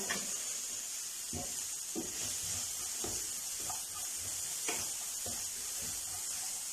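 Finely chopped onions sauté in a pan for samosa filling, giving a soft continuous hiss and sizzle with occasional light scraping taps from stirring.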